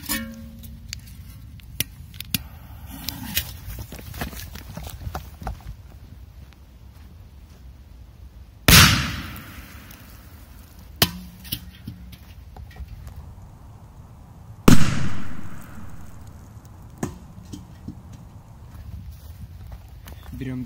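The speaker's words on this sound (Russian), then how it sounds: "Мы продолжаем взрывать бидон." Thunder King firecracker bursting beneath a metal milk can outdoors, giving a loud sharp blast with ringing decay about midway, then a second strong bang a few seconds later, amid background noise and thuds.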